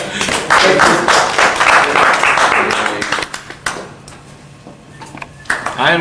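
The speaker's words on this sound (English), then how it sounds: "I am clapping" Hands clapping at a rehearsal, a quick run of sharp, close claps that thins into scattered taps under nearby talking.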